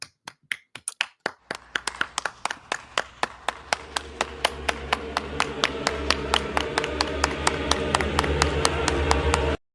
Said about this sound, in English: big round of applause for me